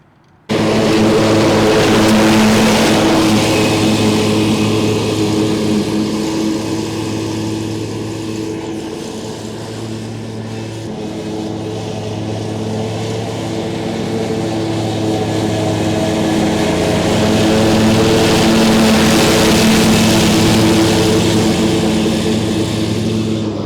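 A Gravely Pro-Turn 560 zero-turn mower driving over bumpy ground, its engine a loud, steady droning hum with low tonal layers that swell and ease slightly, close up and alone.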